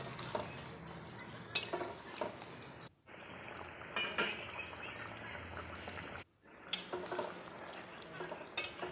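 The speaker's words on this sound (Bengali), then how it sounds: "এখন আগে থেকে গরম করে রাখা জল দিয়ে দেব।" Hot water goes into a pan of spicy chicken curry, with bursts of loud sizzling and hissing plus clinks and scraping from stirring, close, broken by short silent gaps, and no talking.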